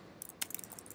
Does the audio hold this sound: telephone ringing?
no